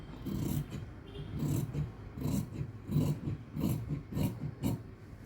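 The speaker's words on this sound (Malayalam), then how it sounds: "നമുക്ക് ഫ്രണ്ടിലെ നെക്ക് കട്ട് ചെയ്ത് കൊടുക്കാം" Scissors cut the V-neck into crop top fabric, giving a series of soft rasping snips in a steady rhythm, close and moderately loud with no talking.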